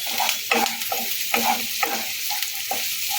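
Vegetable filling for a quesadilla lightly stirred in a frying pan, with a steady sizzle under repeated scraping strokes of a spatula, close and moderately loud, no talk.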